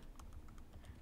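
Soft typing on a computer keyboard, a quick run of light, evenly spaced key clicks, faint and close.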